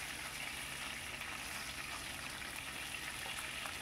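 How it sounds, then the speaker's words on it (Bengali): Fish pieces frying lightly in hot oil in a kitchen pan, a steady, soft broadband sizzle that stays even and fairly faint throughout, with no talking. "যেরকম মাছ ভাজা হয় খুব কড়া করে কিন্তু ভাজবো না, হালকা করেই ভাজছি এখানে"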